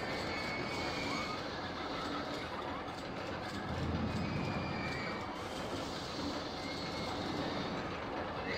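Roller coaster trains running in the RollerCoaster Tycoon video game, giving a continuous dense rattling track rumble with clattering wheels that holds steady for the whole stretch, with no voice over it.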